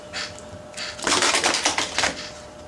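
Playing cards riffled and shuffled by hand during a card trick, a quick burst of crisp flutters after a couple of lighter taps, close and fairly loud with no talking.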